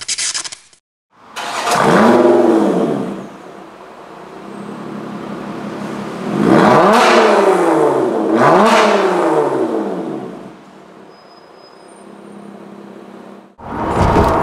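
A Lotus Esprit V8 sports car accelerates hard through several rising, sweeping engine pulls separated by gear changes, loud and close, fading to a quieter cruise before the clip ends abruptly.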